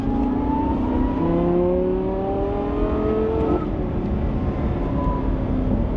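A supercharged V10 Lamborghini Gallardo accelerates with a steady, loud engine drone whose pitch climbs through the rev range, shifts once, then rises again, heard from inside the car.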